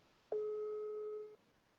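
A WhatsApp call ringing tone plays as a single steady, fairly faint electronic tone lasting about a second, alone with no talk.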